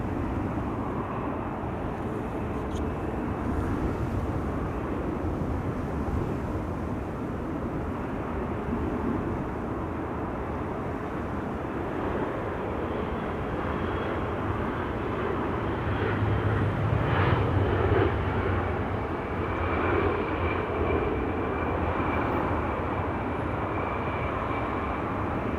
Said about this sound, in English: There's your Finnair A350.